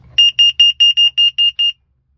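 Eight sharp, high-pitched electronic beeps in quick, even succession from a carbon monoxide alarm being tested, loud and close, then silence.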